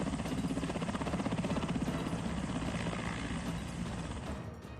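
A helicopter carrying backup troops arrives at an encounter site in Bijapur after a Naxal attack, its rotor chopping loudly and steadily close by before easing slightly at the end.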